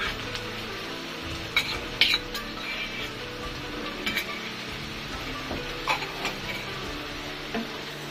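An egg dish frying in a pan as ginger garlic paste goes in, with a low sizzle, stirring scrapes and occasional clinks of a utensil against the pan, close and steady.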